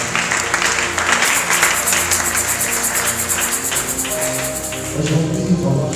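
A church congregation claps and cheers together in praise, a dense, steady wash of applause filling the room for several seconds, with voices and sung or sustained tones rising underneath toward the end.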